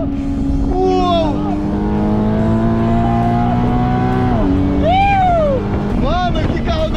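A sports car on a racetrack revs hard and accelerates, engine pitch climbing through gear changes and dropping between shifts, loud and close with wind buffeting, while excited voices shout over it.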